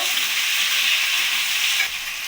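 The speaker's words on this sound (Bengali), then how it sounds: "কুমড়ো শিম আর আলুটা আমি কড়াইতে দিয়ে দিলাম এই সবজিগুলো আমি ভালো করে ভেজে নেব" Pumpkin, beans and potato sizzle in a hot wok with a dense, loud, steady hiss of frying, heard close up and with no talking.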